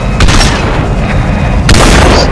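Shotgun blasts in the VR shooter Population One: two heavy booming shots, one early and one near the end, over a constant roar of battle noise.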